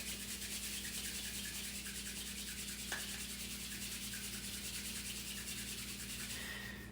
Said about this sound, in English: Rub the palms of your hands together.